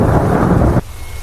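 A cartoon sound effect of thunder with rain plays as a short, loud, rumbling burst that cuts off abruptly, leaving only a faint low background.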